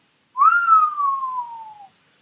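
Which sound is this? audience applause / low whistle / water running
low whistle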